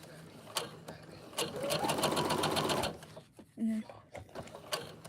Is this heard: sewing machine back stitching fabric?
yes